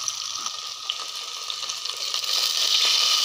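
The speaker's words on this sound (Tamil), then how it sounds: "இப்போ நம்ம கரைச்சி வச்சுருக்க புளிக்கரைச்சலை எடுத்து இதில் ஊற்றிடலாம்" Tamarind water poured into a pan of sautéed onion and garlic, a steady liquid gush and sizzle that swells louder toward the end, with no speech.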